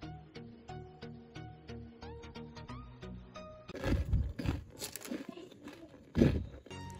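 Someone bites into a crunchy chocolate crispy rice ball, with several close, loud crunching chews following a stretch of light plucked music.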